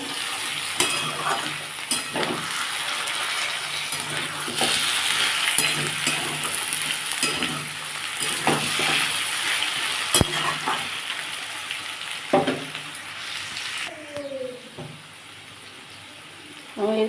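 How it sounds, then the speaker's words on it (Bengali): Potatoes fry in oil in a pan for a Bengali aloo posto. A loud, continuous sizzle carries on throughout, broken by repeated knocks and scrapes of a stirring spoon, and the sound quiets near the end. "দেখুন বন্ধুরা আলুটা অনেকটাই ভাজা হয়ে গেছে"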